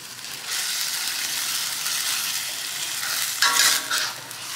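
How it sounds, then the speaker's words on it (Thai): Chinese kale leaves and canned fish seasoned with light soy sauce and a little sugar, stir-fried together in a hot pan: steady close sizzling with scraping stirs, briefly louder near the end, no voices. "ผัดให้เข้ากันครับ"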